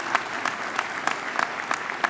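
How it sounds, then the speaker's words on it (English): A crowd at a 2018 high school graduation ceremony applauds, a dense steady clapping with scattered sharper claps, loud and continuous without speech. "Another round of applause for our outstanding board."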